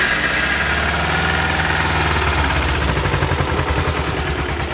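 A 2010 Kawasaki Ninja 250R motorcycle engine running at a steady, loud idle, a fast even putter with a slight rough pulsing, recorded up close with no talking.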